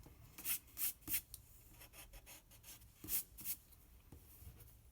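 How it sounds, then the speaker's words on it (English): A pencil traces ovals over and over on paper while drawing chain links, making close, soft scratchy strokes in quick bursts with brief pauses between. "trace your oval over and over again"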